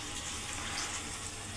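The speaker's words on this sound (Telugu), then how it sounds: "ఇప్పుడు దీనికి సరిపడినంత వాటర్ వేసేసుకోవాలండి" A small glass of water is poured into a pan of broad bean curry. It makes a soft, steady hiss and splash that runs without a break, with no voices.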